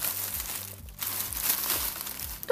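A large plastic shopping bag rustles and crinkles close up, soft continuous crackling with a brief pause before it resumes, and no talking.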